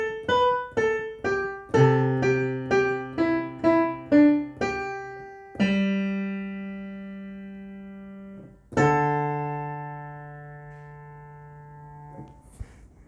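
A piano plays part 4 of a song as a clear, close run of evenly spaced single notes followed by two sustained chords that ring out and decay.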